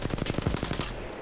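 R99 submachine gun in Apex Legends firing in a rapid, steady automatic burst of about a dozen punchy shots over roughly a second, loud and close.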